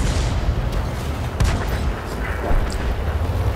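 Tank gunfire in a video game from an M3 Lee: loud, dense, continuous battle noise with heavy booms and rumbling blasts, a couple of stronger hits standing out.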